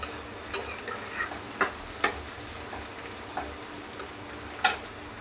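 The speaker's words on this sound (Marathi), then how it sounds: "हे बघा कांदा आणि भेंडी चांगली परतत आहेत" Onion and okra sautéing in a pan for a pumpkin-leaf bhaji: a faint, steady sizzle dotted with sharp clicks and taps from stirring, with no voices.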